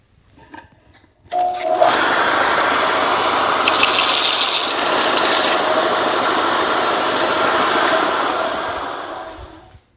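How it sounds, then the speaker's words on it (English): Belt sander cleaning up laser-cut edges on steel camber shims for a Mustang Cobra IRS: a motor starts with a thump, then a loud, steady, gritty whir with brief scraping contact, winding down at the end, close and with no talking. "So the best way to clean that up too is just with a belt sander."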